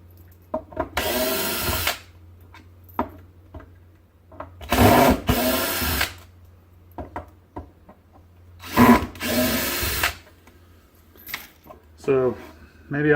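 Bursts of a power screwdriver whirring as screws are backed out of old modems salvaged as scrap from a local phone company, several separate runs of a second or so each with quiet pauses and a voice talking between them.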